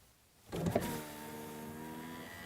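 A car's electric power window motor whines as the glass closes onto a finger, starting abruptly with a brief strained bump, then a steady hum that fades slightly, close and alone.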